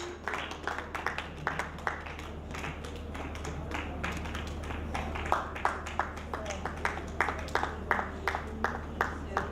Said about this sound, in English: A round of applause for her as she comes on stage